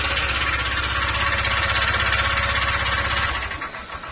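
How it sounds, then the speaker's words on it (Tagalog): A small kuliglig (Philippine hand tractor) engine runs with a rapid, rough knocking pulse, loud and close, then sputters and fades as it dies down near the end. "Yan, yan po yung tunog niya mga sir."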